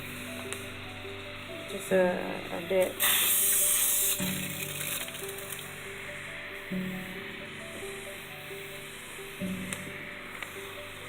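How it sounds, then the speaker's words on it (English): A hand-pump spray bottle mists water over growing sprouts in a few quick, hissing bursts, the loudest lasting about a second, while a person talks quietly between sprays over a faint steady background hum. "So I'm just going to use this spray and just mist-spray them."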